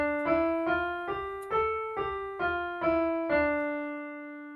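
An ascending run from the Ganesh Aarti is played on keyboard as seven evenly spaced single notes, each climbing a step, clear and moderately soft, with the last note ringing out into quiet.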